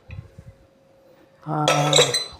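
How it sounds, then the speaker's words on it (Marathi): A few soft taps, then a metal pressure cooker lid is lifted off after cooking rice, with a bright clanking ring that lingers briefly. "आता आपण कुकरचे टोपण उघडूया"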